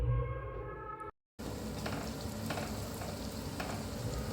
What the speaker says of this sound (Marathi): याला फ्राय करून घ्यायचं. हलकंसं फ्राय झालं की यामध्ये आपल्याला मसाले घालायचे.